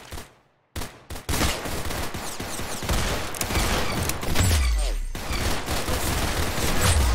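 Rapid, loud gunfire rattles almost continuously in Roblox Arsenal, dense overlapping shots after a brief silent gap near the start, with a low thump toward the end.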